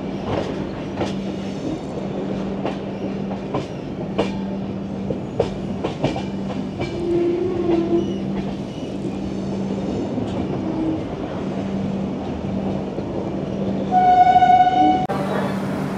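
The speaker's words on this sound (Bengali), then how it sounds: "হাওড়া খড়গপুর মেন লাইনে ট্রেন আমাদের উঠছে এই পাঁশকুড়া লিঙ্ক কেবিনের পাশ থেকে।" The 12857 Tamralipta Express joins the Howrah-Kharagpur main line beside Panskura link cabin with a loud, steady rolling rumble and repeated wheel clicks, then a sustained horn blast near the end.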